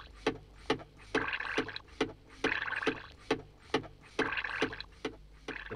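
A fire engine pump on a 1967 children's vinyl record works a park pool, giving a steady rhythmic chugging of about a dozen regular strokes, each a sharp thump followed by a sloshing, gushing surge of water.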